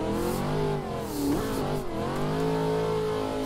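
KNC Giraffe WagonFighter engine in a racing game, a steady loud drone that swells and dips in pitch as the car revs and eases off through a run, continuous throughout with no talk.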